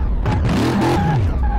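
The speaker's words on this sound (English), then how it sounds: "So it sounds the same as the other car because it's got the same stinking engine in it." A car engine in Car Mechanic Simulator 2018 revs up and down in quick sweeping pitches, loud and close, over a continuous rumbling drone.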